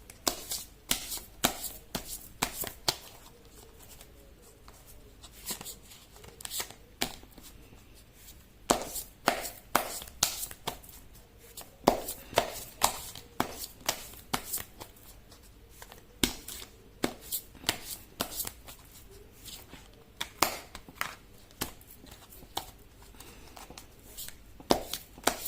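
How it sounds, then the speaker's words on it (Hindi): Tarot cards being shuffled by hand, a long run of crisp riffling and slapping bursts in an irregular rhythm, close and fairly quiet, with no talking. "कर लेती हूँ कार्ड की शफलिंग"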